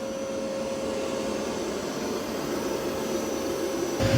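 A Mova P10 Pro Gen 2 robot vacuum runs on carpet with a steady, loud whirring drone and a constant high tone, with no talk.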